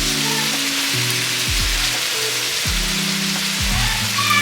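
Meatballs sizzling loudly and steadily in a pan of meat sauce, a continuous close frying hiss with faint low tones beneath it and no talk.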